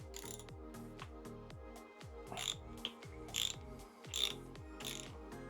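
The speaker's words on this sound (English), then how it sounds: "we're going to take a T50 Torx and we're just going to undo" A T50 Torx ratchet loosens the bar end stop on a BMW R1300 GS, ticking in a steady run of mechanical clicks, close and fairly quiet.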